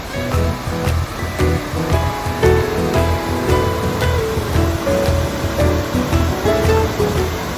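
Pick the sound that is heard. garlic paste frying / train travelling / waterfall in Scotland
waterfall in Scotland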